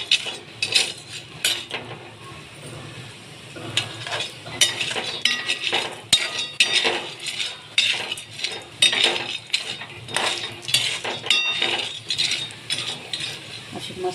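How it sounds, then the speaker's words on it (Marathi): Vadas frying in hot oil in a kadhai while being stirred up and down, with repeated metal clinks and scrapes of the spoon against the pan over a steady soft sizzle, close and moderately loud. "आता आपण हे वडे मस्त खरपूस भाजून घेऊ तेलात।"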